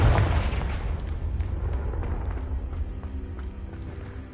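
Confringo blasting spell explosion in Hogwarts Legacy, a deep booming blast that starts loud and slowly rumbles away, with faint crackling pops and a low tonal hum underneath.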